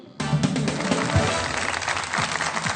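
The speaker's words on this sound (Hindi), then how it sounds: "तालियां" Studio audience breaking into applause on a Pakistani cricket talk show, steady dense clapping that starts abruptly and holds at a moderate level throughout.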